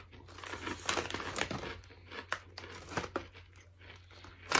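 Crinkle cut sea salt and balsamic vinegar crisps rustle and crackle as the bag is handled. Up-close crinkling and crunching come in short irregular bursts over a low background hum.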